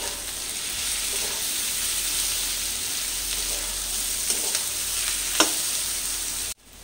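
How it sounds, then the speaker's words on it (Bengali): Capsicum sizzles and fries steadily in a pan, a continuous close crackle with occasional light stirring clicks and no talk, ending abruptly. "ক্যাপসিকামটা দিয়ে আবারও 3 থেকে 4 মিনিট মতন ভেজে নেবে।"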